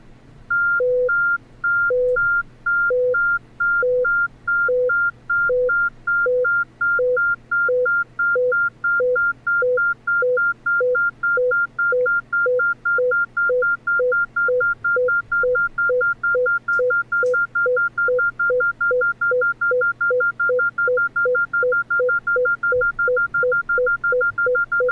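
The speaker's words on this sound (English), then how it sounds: "You will hear a cycle of two high tones and one low tone in a galloping pattern." Two high beeps and one low beep repeat in a galloping three-note pattern as a stream-segregation demonstration, the cycle speeding up steadily as the tones shorten.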